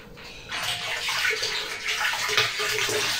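Liquid drains steadily through a hose from a brewing kettle after the third rinse of a whisky malt mash, a continuous close splashing gush running throughout.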